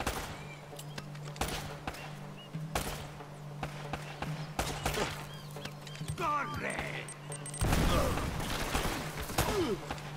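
Gunfire crackles through a firefight in the video game Uncharted, with repeated bursts and sharp shots over a steady game hum while a player talks.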